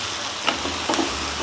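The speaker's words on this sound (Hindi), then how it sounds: "वी विल ऐड इन प्याज। इसको अच्छे से मिक्स करना है एक दो सेकंड के लिए।" Onions frying with curry leaves in a pan, a soft steady sizzle with a couple of brief stirring scrapes, no voices.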